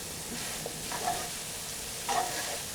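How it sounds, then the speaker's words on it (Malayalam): Asparagus sizzles steadily as it is stir-fried in a pan over medium flame, with a couple of soft scraping stirs over the continuous frying hiss, close up and without speech. "ഇത് 5 മിനിറ്റോളം മീഡിയം ഫ്ലെയിമിൽ ഇതുപോലെ ഇളക്കിക്കൊണ്ടേയിരിക്കണം."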